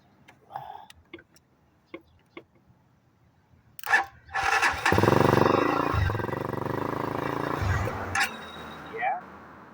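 Fuel-injected dirt bike engine revving the day after a flood, sputtering ticks first, then a rough, rising mechanical rev that holds for a few seconds and drops away, close to the microphone.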